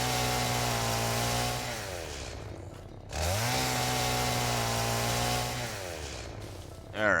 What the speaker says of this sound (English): Chainsaw. Because Malcolm solves his problems with the chainsaw.